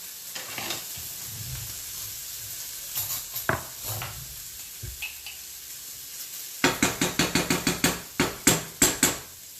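Bacon frying in saved bacon grease in a pan gives a soft, steady sizzle with scattered pops, then a quick run of sharp, loud metallic clacks from a utensil near the end.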